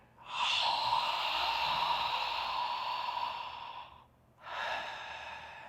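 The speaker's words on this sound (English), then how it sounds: "holding that as I inhale into the back" A deep inhale during a posture breathing exercise, drawn long and steady for about three and a half seconds, then a short pause and a second, shorter breath, close and breathy with no talking.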